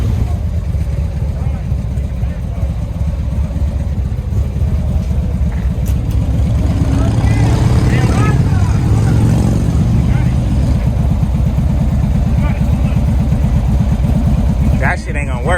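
A Harley motorcycle idles loudly through beefed-up exhaust pipes, a deep continuous rumbling throb close by throughout, with people talking over it.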